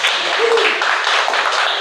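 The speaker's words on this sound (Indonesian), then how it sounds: "Boleh tepuk tangan dulu?" Audience applause at an Indonesian talk-show taping on production, a short loud burst of dense clapping close by, with some voices mixed in.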